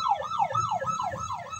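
An ambulance siren wails outside in a rapid, rising and falling cycle, loud and clear with a low rumble of traffic beneath it.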